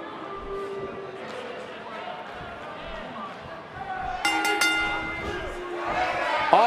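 Arena crowd noise from the WWE 2K18 wrestling video game swells under commentators' voices, a broad roar building toward the end with bright overlaid effects.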